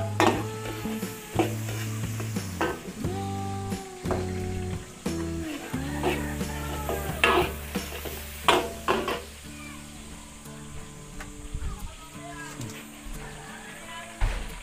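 Onion sautéing in a frying pan for a Filipino garnish, a steady sizzle with frequent stirring scrapes and clinks of the utensil against the pan, close and fairly loud, while someone talks over it.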